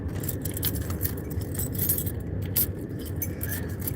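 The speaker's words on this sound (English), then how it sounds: "Keys. Fucking keys." A bunch of keys jangles and clinks continuously inside a vehicle cab, with bright metallic rattles close to the mic over a low background rumble.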